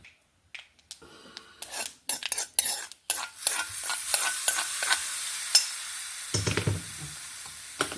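Hot tempering with neem-like leaves is poured into gooseberry thambuli, giving a brief burst of sizzling and then sharp, irregular scraping and stirring strokes of a spoon against the pot, close and fairly loud.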